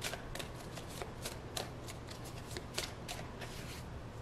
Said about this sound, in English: Let's get one more card on that outcome.